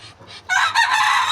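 Poultry on a small farm with ducks and pigeons: soft clucking, then a loud, close rooster crow breaking in and holding for most of a second.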